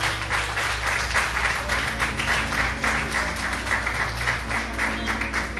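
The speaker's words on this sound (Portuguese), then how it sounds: "E as palmas louvem ao Senhor Jesus" A church congregation claps in praise, a steady, even stream of many hands over a low hum, loud and unbroken for several seconds.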